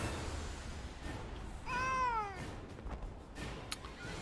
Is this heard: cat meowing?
yes